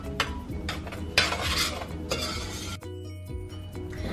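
A spoon stirring water into grits cooking in a pot, making continuous close scraping and swishing with light clinks against the pot, loud and steady for a few seconds, then briefly quieter.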